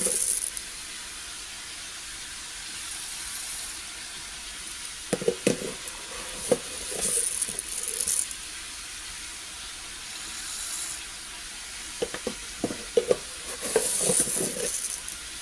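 Two kadai pans cooking side by side on a stove, with a soft continuous sizzle and occasional stirring and clinking of utensils, and water briefly running into a bowl nearby; no talking.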